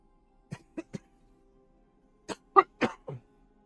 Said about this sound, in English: Sorry, I gotta clear my throat here.